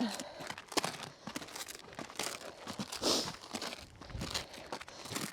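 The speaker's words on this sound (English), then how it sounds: "She spotted your plastic bag." Plastic bag crinkles and rustles in bursts near a horse, with scattered crunching handling noises and faint movement sounds close by.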